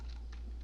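Quiet keys tapped on a computer keyboard while entering a name during a C# programming lesson, a few light clicks in quick succession over a low steady hum, no talking.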